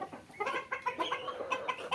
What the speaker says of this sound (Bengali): এখানে মুরগি আছে, মুরগ আছে, সবই আছে